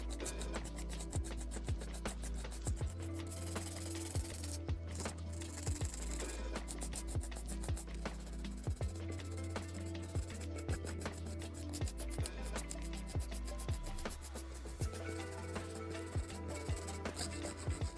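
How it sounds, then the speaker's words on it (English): Steady, continuous rasping of an 80/80 grit nail file scraping back and forth across the free edge of a fingernail during acrylic nail prep, quick repetitive strokes close to the mic with no talking. "shape up the free edge using my 8080 grit nail file"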